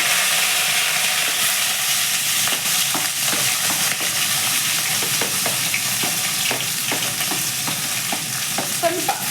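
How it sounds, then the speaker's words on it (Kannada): Chopped onion, green chilli and curry leaves hit hot oil for a mutton masala, giving a loud, continuous sizzle broken by the scrape and clack of stirring. "ಎಣ್ಣೆ ಕಾದಿದೆ. ಈರುಳ್ಳಿ, ಹಸಿಮೆಣ್ಸಿನ್ಕಾಯಿ ಮತ್ತು ಕರಿಬೇವು 3 ಒಟ್ಟಿಗೆ ಹಾಕೋತೀನಿ."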